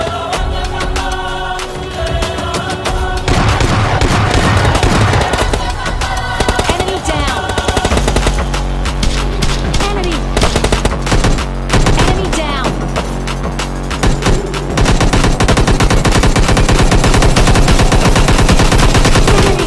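Rapid bursts of video game gunfire, machine-gun fusillades and single shots, crack loudly over a dense, shifting layer of game music and effects for about twenty seconds with no pause.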